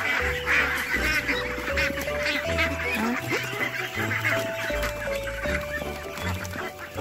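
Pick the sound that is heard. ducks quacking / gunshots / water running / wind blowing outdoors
ducks quacking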